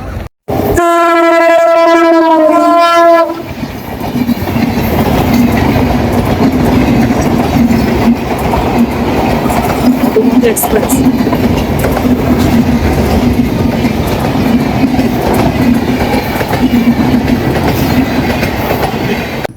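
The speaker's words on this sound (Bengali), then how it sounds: "এখন পদ্মা সেতু হয়ে যে ট্রেনটি যায় সেটি আসছে" A passenger train crossing the Padma Bridge route approaches and runs through Jagati, an old rural railway station in Bangladesh, opening with a loud multi-tone horn blast, then a close, heavy, sustained rumble of wheels and carriages passing.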